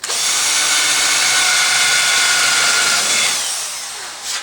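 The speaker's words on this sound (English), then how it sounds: "So we're going to drill with the large 5/32 drill bit, just straight through." A power drill with a 5/32-inch bit whines steadily at high speed as it bores straight through wood, loud and close, then winds down near the end.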